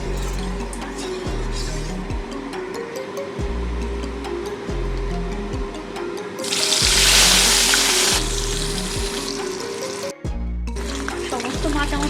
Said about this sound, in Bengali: তেল সুন্দর গরম হয়ে গেছে মাছগুলো আমি এবারে ডো তেলে ভেজে নেব